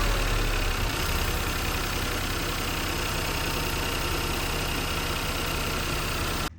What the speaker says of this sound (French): on va passer au démarrage moteur